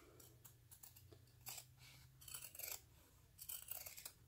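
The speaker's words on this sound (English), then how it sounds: "So cut your corners off like that" Scissors snipping the seam allowance corners off fabric, several quiet, close crisp cuts in small clusters separated by short pauses, faint and with no talking.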